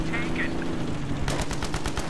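Rapid automatic gunfire rattles in a fast burst aimed at a helicopter in a video game battle, loud and close, with rotor noise and game sounds running underneath.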